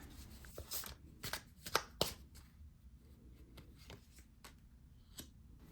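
Soft, quiet papery snaps and riffles of tarot cards being shuffled and laid down, with irregular sharper flicks and no talking.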